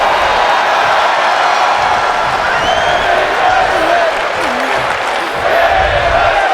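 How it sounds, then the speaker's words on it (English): A steady, loud crowd roars and cheers through a women's match in the WWE 2K25 wrestling video game, set in Atlanta, Georgia. Commentary voices are heard over the noise. "The crowd are loving it here in Atlanta, Georgia."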